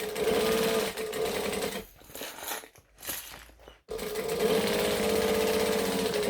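A sewing machine stitches a bag strap near a D-ring connector in rapid, even mechanical runs, pausing briefly in the middle with faint handling sounds before stitching resumes at full speed.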